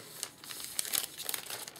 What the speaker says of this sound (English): I'm going to go ahead and put in this little cellophane bag here